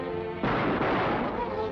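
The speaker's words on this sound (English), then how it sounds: "Fire into that bolt." A single gunshot fired into a rusted bolt, a sudden loud close blast that leaves a long, rough ringing decay behind it.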